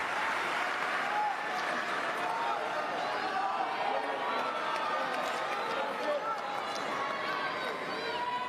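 Tennis crowd at a final-set match rising in sustained applause and cheering after a big shot at 30-all, a dense, loud wash of clapping with no speech on top.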